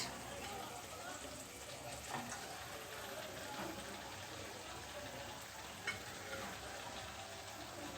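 Rupchanda (pomfret) fish going into hot spiced oil with green chillies in a pan makes a continuous soft sizzle with a few faint clinks, fairly quiet throughout.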